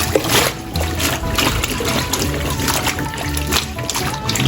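Green beans are swished and splashed in a batch of water, giving steady close trickling and splattering with small clatters throughout.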